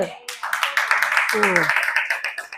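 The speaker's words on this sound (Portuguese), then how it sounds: "Aplausos, Senhor." Congregation at a church gathering clapping briskly and unevenly, moderately loud, with voices speaking and calling out over the claps.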